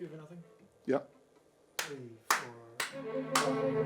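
Sharp hand claps, about four of them, in a string quartet rehearsal of Ravel's String Quartet. The claps are close and loud, with people talking in between and instruments joining toward the end.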